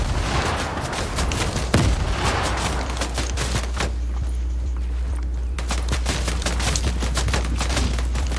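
Rapid laser gun fire in the Fortnite video game, a dense stream of sharp repeated shots with occasional louder cracks over constant background noise, no talking.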